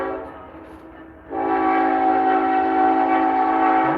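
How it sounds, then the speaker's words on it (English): A train passes on nearby tracks with a loud, sustained horn blast that starts after a quieter rumble and holds steady to the end, no voices. "if you hear a train, that's what it is"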